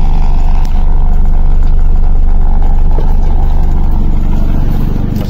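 A 1994 Daihatsu Classy car engine idling with the hood open, a loud, steady, close hum with a smooth even rhythm and no talking.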